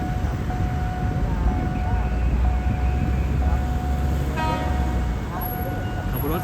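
A freight train from the Bangchak oil refinery rolls past nearby at Makkasan station, Thailand, in a continuous heavy rumble, with steady wheel noise and faint high-pitched squeals running throughout.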